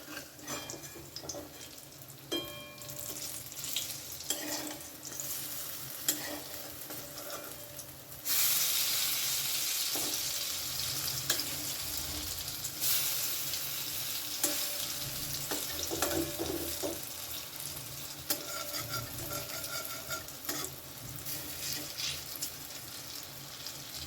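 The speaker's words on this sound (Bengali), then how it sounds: "সমস্ত বড়াগুলোই লাল লাল করে ভেজে নিয়েছি" Vadas fry in hot oil, a steady close sizzle with a louder, denser burst of bubbling partway through and occasional clinks of a utensil.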